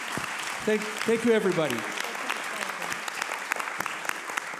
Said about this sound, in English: Give them a very big applause.